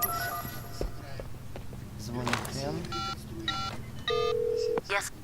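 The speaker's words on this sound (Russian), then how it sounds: "Звонит Кен." A phone rings in the video game Sleeping Dogs, electronic ring tones and dial-like beeps sounding in short repeated bursts, with a voice talking and game sounds in the background.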